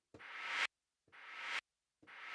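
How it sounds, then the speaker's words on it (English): Three reversed snare tails, each a hissy swell that builds steadily and then cuts off abruptly, separated by short silences. "I'm reversing the tail of this same snare"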